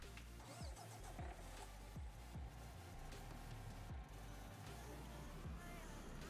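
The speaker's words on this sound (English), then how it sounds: "Let's see what the truck sounds like." A MAN TGS truck engine in the Farming Simulator 19 game runs steadily, with low rumbling pulses and a few rising and falling engine sweeps, at moderate level throughout.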